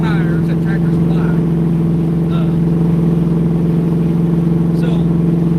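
A truck engine drones loud and steady inside the cab with a deep constant hum, and brief voices break in faintly over the noise.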